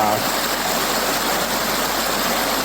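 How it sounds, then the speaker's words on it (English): A mountain stream and waterfall at a trail fork in the Adirondacks, New York, rush with a loud, steady, broadband roar of falling and flowing water that holds unbroken throughout. "just taking a little bit of a break at this stream and waterfall"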